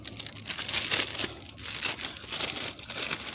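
Plastic packaging around a new settlers wrench crinkles and crackles in repeated close bursts as it is handled and unwrapped, with no talking.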